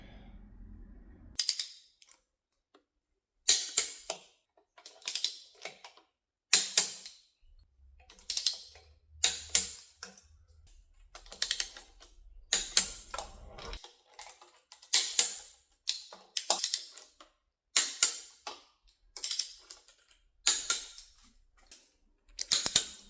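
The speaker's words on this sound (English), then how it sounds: "I'm going to torque these down" A torque wrench tightens intake bolts on an AMC 258 engine, giving a series of sharp ratcheting clicks and metallic snaps in short bursts with gaps between them, close and fairly loud.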